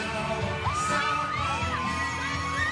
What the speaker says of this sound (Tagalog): May sumisigaw pag Sandro.